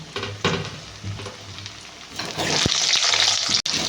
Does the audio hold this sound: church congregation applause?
no